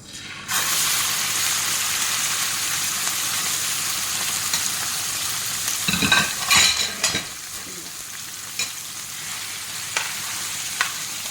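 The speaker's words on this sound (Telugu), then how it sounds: "ఇప్పుడు చికెన్ వేస్తున్నాను" Chicken pieces dropped into a hot pan of oil and spices with cloves, bursting into a loud steady sizzle, followed by several sharp clinks and scrapes of a utensil, with no talking.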